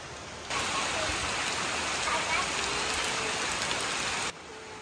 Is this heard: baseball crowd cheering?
no